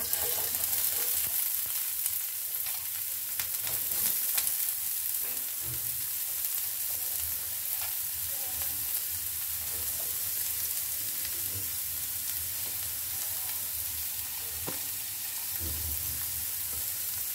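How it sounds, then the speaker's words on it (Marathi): Onion, ginger and garlic frying together in hot oil over low heat, producing a continuous dense sizzle with crackles and occasional stirring knocks, close and steady throughout. "कांदा, अद्रक, लसूण हे तिन्ही एकत्र करून मंद आचेवर आपण परतून घेणार आहे"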